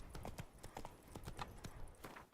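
Horse hooves clip-clopping in the video game The Witcher 3, a steady rhythmic trot of quiet, distinct hoof strikes over a few seconds with no talk.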